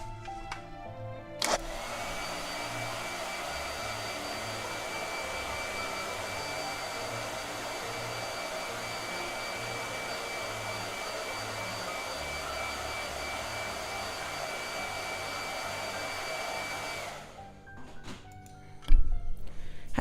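Blow dryer running steadily with a constant whooshing drone that holds for about fifteen seconds, then cuts off, followed by a few clicks and handling sounds.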